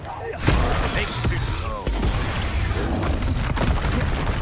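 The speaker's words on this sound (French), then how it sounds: "Explosion." Spell explosions in the video game Hogwarts Legacy burst out as deep booming thuds and crackling blasts over dense combat noise, with a player's voice talking over the action.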